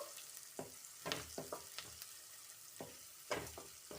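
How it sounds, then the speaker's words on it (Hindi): Chopped onion sizzles in a pan as turmeric and red chili powder are stirred in for a semolina masala dosa filling, with quiet spatula scrapes and bursts of frying at an irregular pace, close and without talk. "अच्छे से मिक्स कर देंगे मसालों को।"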